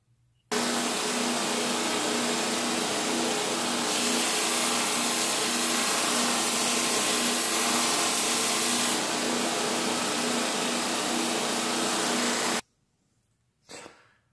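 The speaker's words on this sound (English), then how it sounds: "go out into the shop with the 800 grit on the 2x72 and try to clean up these issues with the flashing" A 2x72 belt grinder running an 800 grit belt sands a cast metal part to clean up flashing, giving a loud continuous roaring hiss for about twelve seconds that cuts off abruptly, followed by a brief knock.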